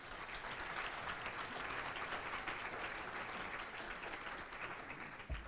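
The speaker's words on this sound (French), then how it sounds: "Je pense qu'on peut les applaudir." An audience at a French public meeting applauds at length, a broad sustained roar of many hands clapping, even and fairly distant, ending with a faint bump.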